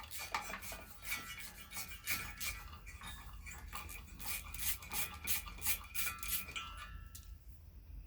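Small metal nut dropping and rattling during teardown of a 1977 Yamaha GT80 bike, a cluster of bright clinks and jingles close by that settle over several seconds, with no talking.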